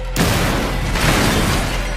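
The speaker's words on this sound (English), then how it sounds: "Big explosions, honey." Explosions in the video game Watch Dogs: a sudden loud boom erupts and rolls into a sustained, rumbling roar of blasts and debris with no pause.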